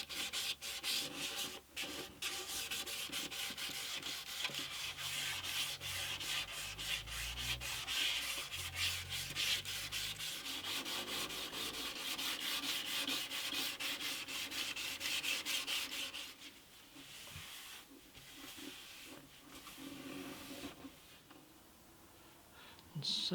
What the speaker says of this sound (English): before applying shellac I'm going to just do a little bit more sanding